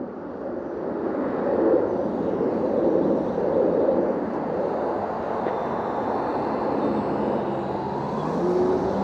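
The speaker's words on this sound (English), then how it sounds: "Big plane up there, a little bigger than I've seen before in this parts." A large airplane passes overhead, a broad, steady roaring drone that swells slightly and holds at moderate distance for several seconds, with no speech.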